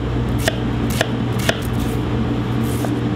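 Knife slicing snap peas, cucumber and red onion for a salad, with a few distinct crisp cuts about half a second apart over a steady background hum.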